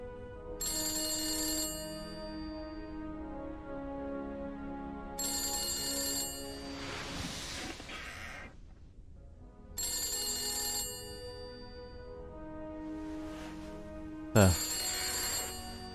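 An old-style telephone bell rings in The Beast Inside horror game, four loud repeated bursts of ringing separated by pauses, with voices talking in the gaps.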